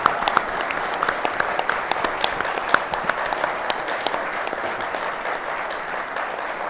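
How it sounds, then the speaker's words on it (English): A crowd at a technical talk applauds a badge-making team, with dense, steady clapping from many hands sustained throughout at an even level. "So if we can just give them a huge hand of applause."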